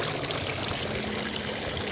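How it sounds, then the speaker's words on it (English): A small waterfall pours at close range, a dense, continuous rushing splash with no pauses and no voices. "Look at this nice little waterfall."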